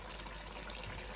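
Water poured steadily into a pot of Jamaican curry goat with still-tough mutton, a soft continuous trickle and splash that runs unbroken and fairly quiet, with no voices over it.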